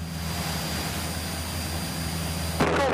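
A Cessna 172 climbs out on departure from Cambridge, its engine a steady, loud droning hum with a constant low rumble, then a brief bump of noise near the end.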